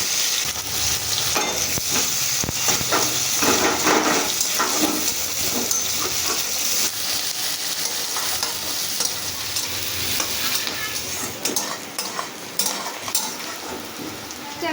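Chopped onions frying with cumin, dried red chilli and whole garam masala in a kadai, a steady loud sizzle with repeated spatula stirring and scraping throughout.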